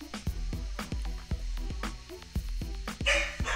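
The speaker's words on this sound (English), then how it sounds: "My dog's going to bark" A dog barks repeatedly in quick, evenly spaced bursts, clear and fairly close, with no talk over it.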